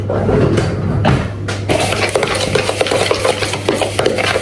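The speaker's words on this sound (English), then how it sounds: "we're just gonna mix this until it's in a nice cream" Cake batter is mixed in a bowl until creamy, a loud, continuous, close-up stirring with a spoon that keeps a steady, busy scraping rhythm against the bowl.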